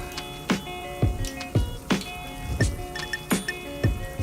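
Water runs into a pipe junction in a fish room, with gurgling and irregular drips and plops, about eight distinct splashy pulses over a faint hiss.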